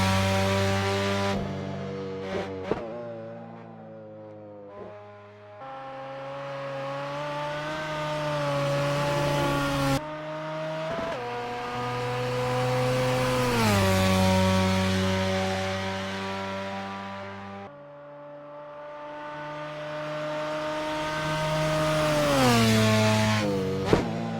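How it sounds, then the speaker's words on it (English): Car from the Japanese pack in Assetto Corsa, engine revving hard through repeated upshifts, each gear climbing then cutting sharply, loud and close with no talking. "I'm going to come off the mic again so you can actually hear the car"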